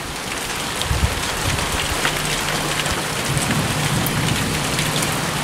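Heavy rain pours steadily in a spring thunderstorm with hail and strong wind, a dense, constant hiss close by, with low thunder rumbling faintly underneath and no voices.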